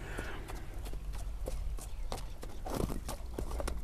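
Strong ulak (kok-boru) horses at a sale in Bishkek, hooves thudding in an irregular walking rhythm on the ground, fairly faint and steady across the moment.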